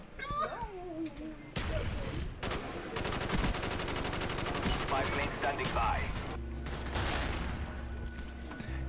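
Gunfire rings out on a firing range in Call of Duty Black Ops, with plywood walls and moving targets: loud, dense bursts of rapid shots run almost continuously, with short pauses and game sounds between volleys.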